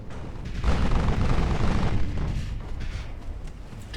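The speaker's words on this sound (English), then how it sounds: "Torpedo detonation." A deep torpedo detonation in the naval video game Ultimate Admiral Dreadnoughts rolls out as a loud, low boom with a rumbling tail that slowly fades, heard alone without talk.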